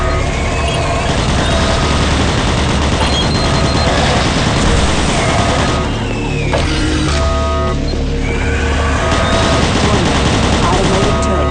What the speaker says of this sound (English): Warning, automated turret guns online.